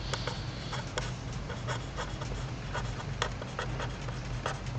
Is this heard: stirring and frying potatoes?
no